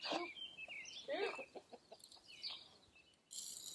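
Chickens clucking in an outdoor yard, a few short squawky calls and clucks scattered through a noisy background, with a burst of broadband noise near the end.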